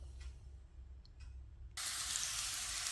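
Onions with a few carrots hit a hot pan and start sautéing, a sudden loud sizzle that begins partway through and holds steady after a quiet stretch of faint kitchen noise.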